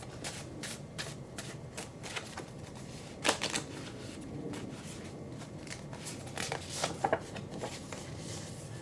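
Tarot cards are shuffled and drawn by hand, with rapid riffling and slapping bursts and a few louder snaps as cards are laid down, close and steady with no talk.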